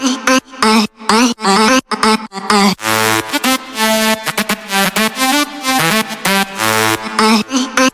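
Electronic dance music drop melody made in FL Studio for a bootleg remix: bright, buzzy synth chords and lead notes hammer out a rhythmic pattern over a deep bass, loud and dense throughout with no voices.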